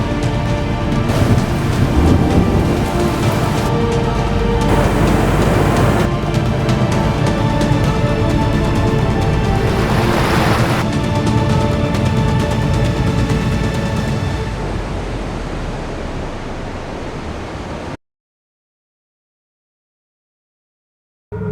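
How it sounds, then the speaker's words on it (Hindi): Nanemachi waterfall in Raigad, Maharashtra, dropping about 400 feet during the monsoon, roars as a steady, loud, broadband rush of falling water with no voices, then cuts to silence near the end. "ये वाटरफॉल लगभग 400 फीट की ऊंचाई से गिरता है"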